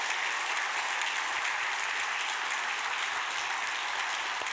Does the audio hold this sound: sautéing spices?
no